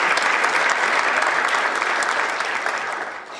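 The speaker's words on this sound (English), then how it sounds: "Why don't we give them a nice round of applause" A symposium audience in Milwaukee gives a panel a loud, dense round of applause, steady throughout and fading slightly toward the end, with no talking over it.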